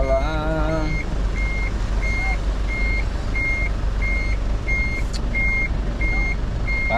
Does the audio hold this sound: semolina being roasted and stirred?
no